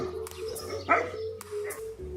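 A few dogs barking and yipping, some distant and one closer, in scattered short bursts over a low steady hum, in California.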